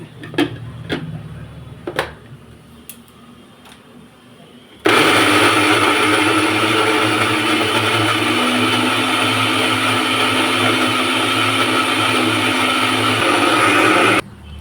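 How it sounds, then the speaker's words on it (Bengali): A new mini mixer grinder grinding spice paste runs loud and steady for about nine seconds after a few quieter knocks and clatters at the start, then cuts off sharply. "এই মিনি মিক্সিটা আমি না নতুন কিন্তু কিনেছি"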